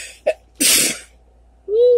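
A single close, loud sneeze: a brief sharp intake, then an explosive burst, followed after a pause by a short voiced exclamation.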